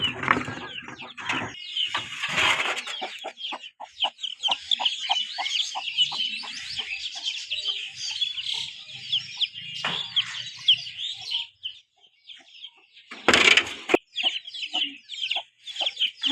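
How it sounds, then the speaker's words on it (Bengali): Chickens cluck busily after being released in the morning in a village yard, with a dense run of clucks and chirps plus a louder burst of squawking near the end. "এখন আমি মুরগি ছেড়ে দিব, মুরগি ছাড়বো"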